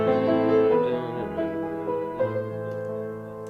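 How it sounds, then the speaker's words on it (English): Beethoven's Für Elise plays as a short solo melodic passage of clear, tonal notes at moderate volume, with no talking over it. "A common example of tonal music would be Beethoven's Für Elise, which sounds like this."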